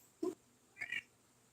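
A cat gives two short meows in quick succession, the first lower and the second higher and slightly drawn out, close and fairly quiet against a faint background hum.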